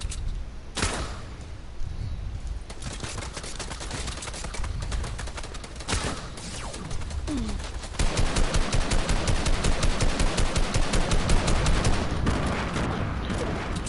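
Bursts of rapid automatic gunfire in a Fortnite match, dense volleys repeating across the clip and growing louder and steadier toward the end, with no talking.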